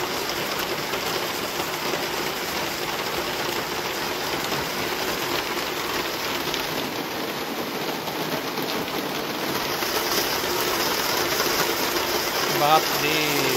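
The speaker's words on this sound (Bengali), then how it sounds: "কত জোরে বৃষ্টি পড়ছে।" Heavy rain pours steadily, a dense and continuous hiss of drops on surfaces that holds at a constant loud level throughout with no pauses.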